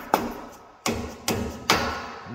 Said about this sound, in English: Next, we're going to tap this with a hammer.